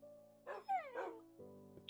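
Dogs barking in a video game, a few short yips and whimpering barks over a quiet steady hum, faint and close, with a brief pause between bursts.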